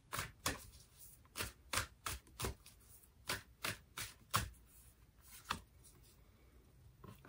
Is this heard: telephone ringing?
no